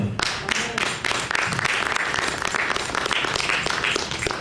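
A church congregation bursts into sustained, dense applause, many hands clapping steadily and close for several seconds with no break.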